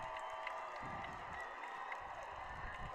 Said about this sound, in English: Grandview crowd getting loud.